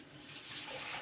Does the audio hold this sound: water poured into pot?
yes